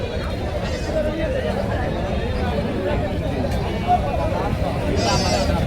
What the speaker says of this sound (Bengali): এখানে ছাগল পাবেন প্রচুর ছাগল